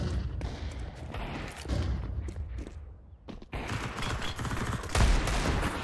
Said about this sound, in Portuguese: É pra tocar tiro mesmo, todo mundo toca tiro